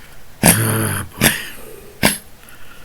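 An Affenpinscher coughs three times, harsh hacking bursts spaced about a second apart, close by, with quiet in between.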